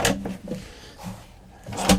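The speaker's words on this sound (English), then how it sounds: "The door just pops back on to the tracks." An RV cabinet door in the kitchen of a 2024 Pleasure-Way Plateau XLTS camper van pops back onto its tracks, giving a few close, short knocks and clacks with a louder snap at the end.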